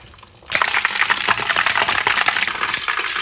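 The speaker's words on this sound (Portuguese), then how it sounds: "Enquanto o peixe está fritando ali" Battered fish for fish and chips hits hot oil and bursts into a loud, steady crackling sizzle that continues close up without talk.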